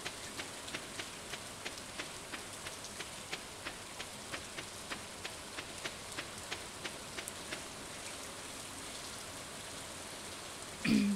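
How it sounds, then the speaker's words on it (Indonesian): Rainfall in the farming video game Stardew Valley, a steady hiss of rain with regular ticking drips for most of the stretch, ending in a short louder thump. "Wow, hujan"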